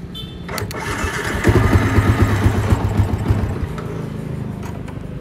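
A Yamaha V-Xeon motorcycle with a rough-idle, stalling fault has its starter jumped with pliers: a brief whirring crank, then the engine catches and settles into a steady, close, rhythmic putter.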